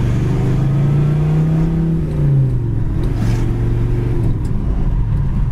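A 1970 Chevy Nova engine hums loudly nearby, its pitch dropping then rising again as the four-speed downshifts to third, second and first, with a steady road rumble underneath.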